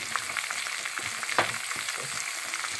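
Eggplant goes into a pan of frying vegetables for a tangra fish and onion greens dish, producing a continuous sizzle punctuated by irregular stirring knocks and scrapes, close and fairly quiet.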